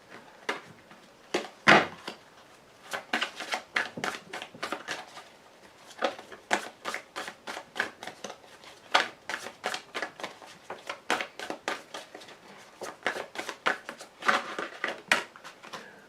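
Tarot cards being shuffled and dealt, a long run of crisp riffling snaps and flicks in quick irregular bursts, close and fairly loud, with no talking over them.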